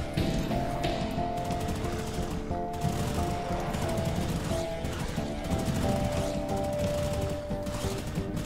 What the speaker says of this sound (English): Triple machine guns.